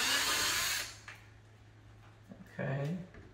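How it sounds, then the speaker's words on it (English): A power drill bores holes into the front bumper of a 6th generation Chevrolet Camaro to mount front canards, one loud steady whir lasting about a second, then a short second burst after a pause. "Now we can go ahead and we can drill all of our holes."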